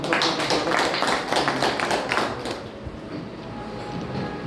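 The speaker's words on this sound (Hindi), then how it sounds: "ऐसे व्यक्ति के लिए तालियों की गड़गड़ाहट से एक बार" A crowd at a BJP party office meeting of Sahu community office bearers bursts into dense, steady applause that tapers off over the last couple of seconds.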